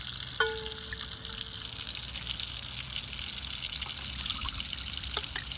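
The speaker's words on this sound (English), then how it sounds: "I'm gonna put a couple ladles full of this hot lard into the bottom of my crock" Hot lard poured from a ladle into the bottom of a crock, giving a brief soft splash and trickle near the start over a steady, faint hiss, with no one speaking.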